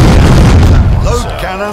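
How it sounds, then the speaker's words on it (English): Ship cannons booming in a naval battle between British and pirate ships in the game East India Company, a dense low rumble of blasts filling the short stretch before fading slightly. "Cannons ready, sir. Turn to port. Fire."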